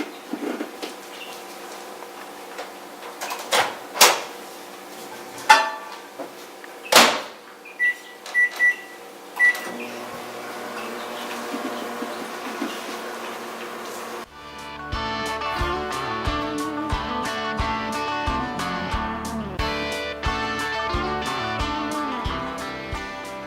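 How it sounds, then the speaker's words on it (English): A microwave running on high power hums steadily with a few loud clicks and clunks early on, then a busier, louder mechanical drone takes over toward the end. "now we're going to put it in the microwave on high for 1 minute"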